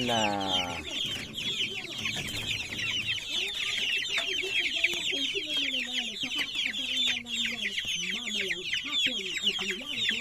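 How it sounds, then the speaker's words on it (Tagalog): Upgraded native chickens from a breeding farm in the rural Philippines clucking and chattering steadily, a close flock with overlapping calls, and a few brief low voices in the background. "Ito yung natin na tawag na upgraded native chicken galing kay Custod sa chicken breeding farm"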